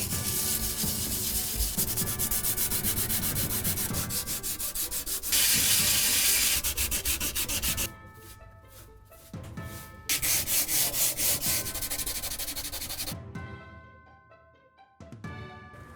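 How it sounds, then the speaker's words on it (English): An abrasive sanding tool scrubbing the rusty gas tank of a Ford Torino, a close, loud, steady gritty whir with a louder burst, brief pauses, and a drop in level near the end. "I'm going to continue sanding the rest of the tank"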